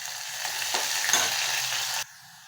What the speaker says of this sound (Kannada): ನೋಡಿ, ಇದಕ್ಕೆ ನಾನು ಈರುಳ್ಳಿ ಹಾಕ್ತಾಯಿದ್ದೀನಿ. ಅದ್ರ ಜೊತೆನೇ ಬೆಳ್ಳುಳ್ಳಿ ಗೆಜ್ಜಿಟ್ಕೊಂಡಿದ್ದೆ.